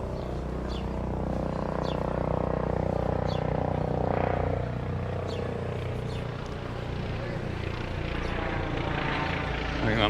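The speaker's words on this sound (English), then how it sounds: "I think that might be a police helicopter." A police helicopter flies over Palmanova, Mallorca, as a steady low rotor rumble that holds for the whole stretch, with birds chirping faintly above it.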